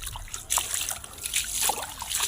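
Water drains from a freshly transplanted rice paddy field with a continuous close trickle and splatter, steady with small surges and no talk.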